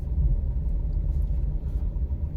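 A Suzuki Alto 660cc car creeping along slowly on light throttle, a steady close low rumble from the engine and road with no voices.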